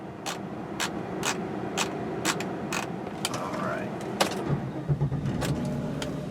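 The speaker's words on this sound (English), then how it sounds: "now we're going to take this Volvo S80 sedan out on a quick" A black 2002 Volvo S80 sedan on a test drive, heard from inside as a low, steady engine rumble under a regular series of sharp mechanical ticks.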